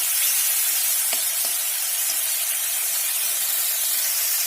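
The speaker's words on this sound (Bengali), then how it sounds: "এটাকে আমি কিন্তু এইভাবেই দু মিনিট মতো কষিয়ে নেবো" Vegetable paste frying in a pan for a Bengali dish, with a loud, continuous close sizzle and a couple of faint stirring knocks early on, and no voices.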